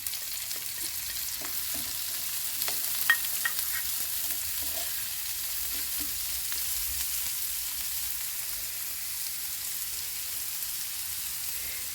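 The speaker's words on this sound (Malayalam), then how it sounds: "ഇതിലേക്ക് സവോള അരിഞ്ഞത് ചേർത്ത് നന്നായിട്ടൊന്ന് വഴറ്റി എടുക്കണം" Chopped onion sautéing in a pan for a banana flower cutlet, giving a steady, soft sizzle with faint stirring clinks throughout, no talking.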